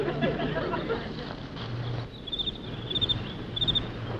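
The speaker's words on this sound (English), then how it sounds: "Just a cricket, Mr. Gregg." A cricket chirps at night in Griffith Park, with three short, bright bursts of trilling in the second half over quiet outdoor background noise.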